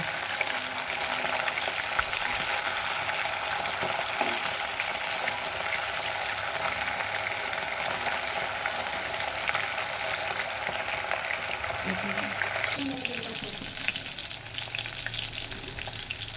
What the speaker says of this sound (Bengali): আর বাকি এখানে কড়াই ভাজা হচ্ছে।